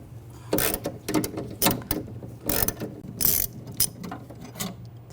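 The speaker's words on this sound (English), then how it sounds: "Now using a E12 socket, we're going to take this screw out here." Socket wrench with an E12 socket ratcheting out a screw inside the rear door of a 2006-2010 BMW 550i, giving repeated bursts of close, crisp clicking in an uneven rhythm with short pauses between strokes.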